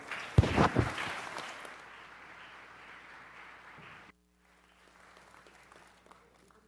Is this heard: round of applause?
yes